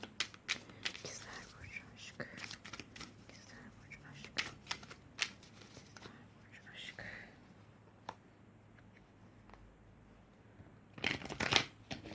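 Tarot cards are shuffled and drawn at close range in a quiet room, giving soft riffling and flicking bursts through the clip and a louder flurry near the end, with faint breathy sounds in the background.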